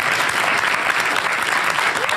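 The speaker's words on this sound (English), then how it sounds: "You're watching Q&A with live applause." Live studio audience applause on an Australian Q&A television panel program, dense and steady clapping throughout, close and loud with no voices over it.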